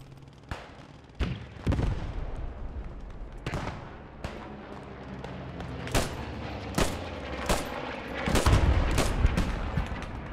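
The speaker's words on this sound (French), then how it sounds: "bien joué l'artillerie là" Artillery fire in the video game Post Scriptum, with heavy booming blasts scattered irregularly over a background of distant gunfire and rumbling battle noise, some loud and near, others fainter.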